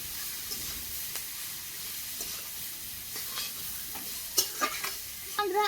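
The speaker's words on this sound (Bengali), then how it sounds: "পাতাকপি কেটে রেখেছিলাম, ওটা কিন্তু আমি এখন দিয়ে দেবো। দিয়ে দিলাম, ভালো করে নেড়ে ছেড়ে নেবো।" Chopped cabbage stir-fried in a pan on a village cooking fire, a soft steady sizzle and hiss with a few scraping stirs of a spatula growing sharper toward the end.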